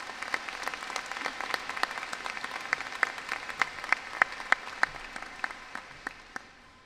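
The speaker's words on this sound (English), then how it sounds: "Please join me now for a round of applause for trustees." Audience applause for the trustees at a university spring commencement ceremony, an even patter of many hands with sharp individual claps standing out, heard from a distance and fading away after about six seconds.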